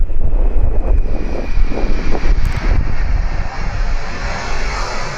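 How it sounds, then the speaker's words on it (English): Jet engines of a cargo Boeing 747 landing at Amsterdam, a steady, loud roar with wind buffeting the microphone, continuous throughout without any talk. "This cargo 747 almost touched the runway with its engine during landing in Amsterdam"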